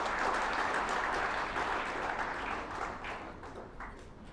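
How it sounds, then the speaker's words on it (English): Applause from the audience at a commencement day ceremony, a steady dense wash of many hands clapping at moderate distance, sustained throughout and slowly tapering toward the end. "I will request to give a big applause to this occasion"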